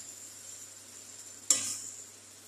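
Chicken for a chicken butter dish hits a hot pan with a sudden loud sizzle midway, the hiss flaring sharply and then easing into a steady, fading fry over a faint background hum.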